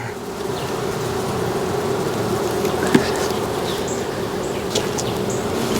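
Dense buzzing of many honey bees being added to a hive fills the air continuously, close and steady, with a few individual insects droning past.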